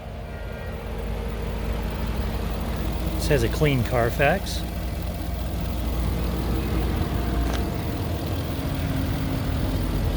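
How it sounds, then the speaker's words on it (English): A 2019 Bentley Bentayga V8 idles steadily in the background, a low continuous engine hum that runs the whole time while someone talks over it. "that engine is running beautifully"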